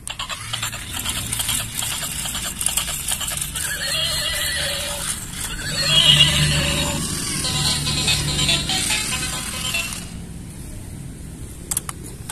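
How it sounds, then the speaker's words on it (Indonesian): A horse neighs and whinnies loudly in a children's animal sound sequence, with a drawn-out call over a steady background and faint clip-clop of hooves, fading near the end. "ini kuda, teman-teman"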